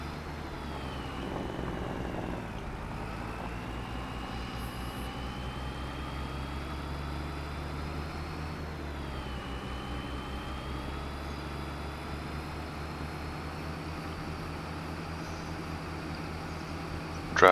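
A low engine drone from an empty truck driving in Farming Simulator 25, steady and close throughout, with a slight shift in pitch as it changes speed and no talking.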